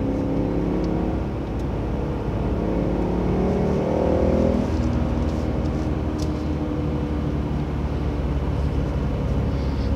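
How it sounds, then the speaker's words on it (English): A deep sports car engine roars steadily up close, its pitch climbing briefly and easing off as the car is driven hard through corners; no voices. "God, I love that engine."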